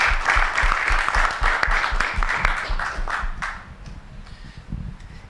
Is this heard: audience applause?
yes